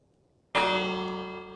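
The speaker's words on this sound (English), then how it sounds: "I didn't ring the frickin' bell again." A Minecraft bell struck once, ringing with a sudden loud metallic clang that hangs on as a rich, slowly fading tone.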